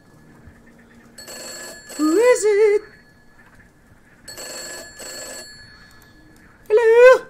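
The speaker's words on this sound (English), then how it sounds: "or like the phone is ringing now" A telephone rings in the horror game Gray Dawn, with repeated bursts of ringing separated by short pauses while a voice talks over parts of it.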